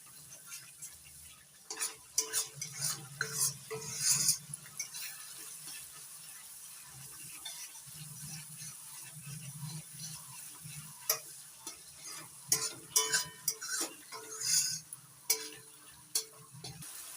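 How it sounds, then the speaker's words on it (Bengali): A masala with cashew paste is stirred and fried in a pan for a vegetarian potol korma, producing steady soft sizzling with repeated spoon scrapes and clinks in intermittent bursts, close and fairly quiet, with no talking. "কাজু বাদাম বাটা দিয়ে অনবরত নাড়াচাড়া করতে হবে, নাহলে তলায় ধরে যেতে পারে।"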